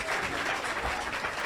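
A crowd claps at a Caribbean Christmas music contest, a dense, continuous wash of applause filling the whole short stretch at an even, fairly loud level.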